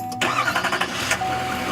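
A 2015 Chevy Silverado 3500 HD diesel cranks briefly and catches, settling into a loud, close, rough idle clatter within about a second.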